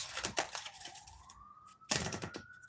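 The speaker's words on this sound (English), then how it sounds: "Hear the sirens?" A faint, distant siren wails in a slowly rising tone, partly buried under louder clattering and rustling noises nearby.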